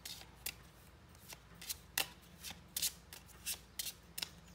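Tarot cards shuffled for a love reading, a dry papery riffle in short repeated bursts, close and soft, with no voice over it.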